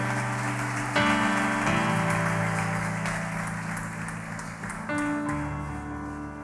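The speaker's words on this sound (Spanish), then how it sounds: "Dale un aplauso al Señor y ponte en pie." A church congregation applauds while standing, a dense wash of clapping blended under sustained chords of live worship music.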